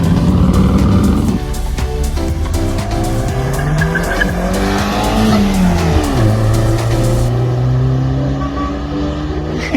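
A loud motorcycle engine roars and revs close by on the Tail of the Dragon road, pitch sweeping up and down through gear changes and throttle blips with a steady rumble underneath.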